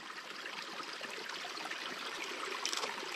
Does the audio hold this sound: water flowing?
yes